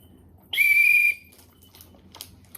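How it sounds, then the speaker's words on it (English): A single short, shrill whistle blast lasting about half a second, close and loud, followed by faint background noise. "So yeah, this is our whistle."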